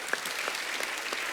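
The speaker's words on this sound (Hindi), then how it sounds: "दिव्या जी की कंपनी और दिव्या जी के लिए जोरदार ताली" Studio audience applause for Divya ji on a Kapil comedy TV show stage, a steady wash of clapping with scattered sharper claps, moderately loud and continuous for its short length.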